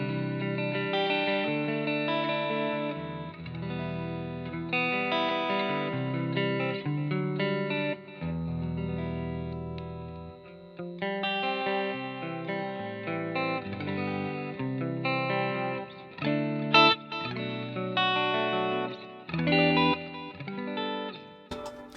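Electric guitar through a Positive Grid Spark amp set to a bright clean tone with bass cut and treble boosted plays a run of chords and picked notes, alone and at steady moderate loudness with short gaps.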